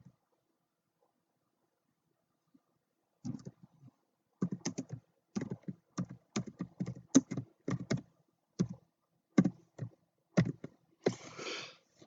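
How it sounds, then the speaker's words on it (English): Typing on a computer keyboard, with irregular bursts of close, crisp key clicks starting after a few seconds of quiet and ending in a brief rapid flurry. "I'll have to type that in manually."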